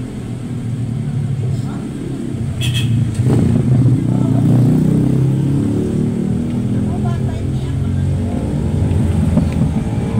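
A motorcycle engine runs close by with a low, throbbing idle that rises into a louder rev partway through and stays strong to the end, with voices faintly mixed in.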